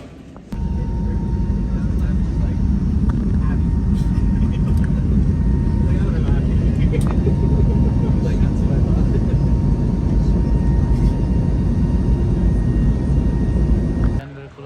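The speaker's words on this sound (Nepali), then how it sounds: "ल अब प्लेन चढौँ। हामी चढ्ने प्लेन चाहिँ त्यही हो।" A parked airliner at the airport during boarding gives a loud, continuous engine whine and roar close by, with faint voices beneath it.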